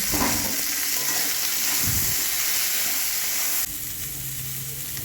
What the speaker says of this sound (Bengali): সজনে ডাঁটা আর করলা ছোটো ছোটো করে কাটা এটাকে লবণ দিয়ে আমি ভেজে নেব